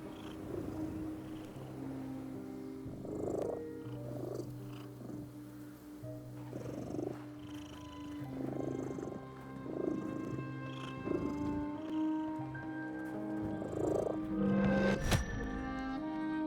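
A cat purrs in the video game The Midnight Walk. The soft, rhythmic purring is close and steady, pulsing every second or so over a low hum of game ambience, with no voices.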